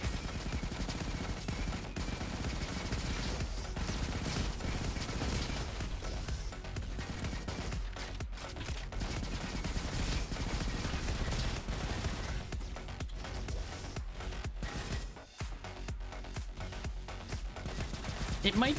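Sustained automatic rifle fire from the windmill rifle in the shooter game Roboquest, dense rapid bursts running almost continuously and loud throughout, with a brief dip near the end.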